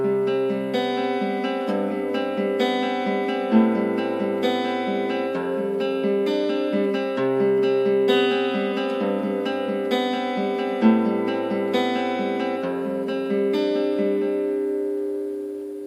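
An electric guitar tuned to drop D picks the intro of a song as a repeating arpeggiated pattern over shifting low bass notes, played steadily and alone without any voice.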